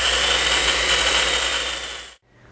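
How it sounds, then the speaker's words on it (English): AGP DB32 digital tube bending machine running in reverse as its spindle returns to the zero-degree start position, a steady close mechanical whir that stops abruptly near the end. "press and hold the trigger until the spindle returns back to the 0 degree starting position"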